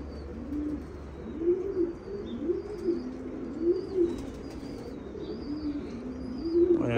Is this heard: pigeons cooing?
yes